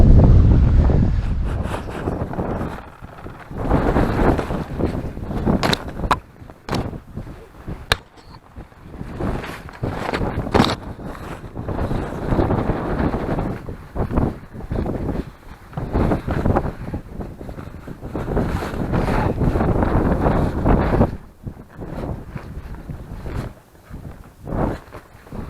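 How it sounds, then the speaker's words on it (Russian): Strong cold wind gusting across a microphone on the Moksha River in Mordovia, a loud continuous roar with buffeting bursts throughout, no voices. "А тут что-то прям ветрище,"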